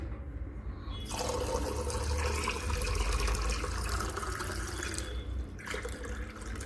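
Water pours steadily for washing, a continuous rushing, splashing stream that starts abruptly, runs for several seconds close by, then tapers off, with no speech.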